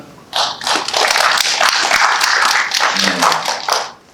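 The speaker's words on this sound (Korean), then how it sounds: "박수가 나왔습니다." Attendees at a policy forum on the Korean animation industry break into applause, a dense burst of many hands that swells quickly, holds for several seconds and then fades out.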